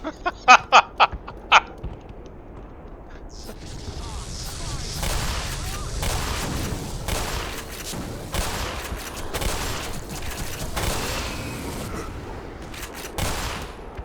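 A few sharp shots ring out in the video game Black Mesa, then a dense, continuous volley of gunfire crackles and rattles for several seconds, with layered bursts throughout.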